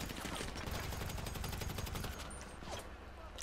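Rapid bursts of carbine rifle gunfire in GTA V Online crackle continuously, a dense volley of shots that thins out slightly toward the end, with no voices.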